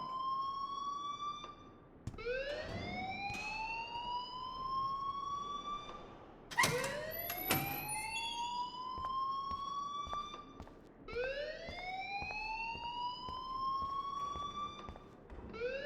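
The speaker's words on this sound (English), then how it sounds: "please turn off that alarm since that's your job" A school alarm wails in repeated rising sweeps in the game Life Is Strange, each tone climbing and holding before restarting, loud and steady with a few sharp clanks between cycles.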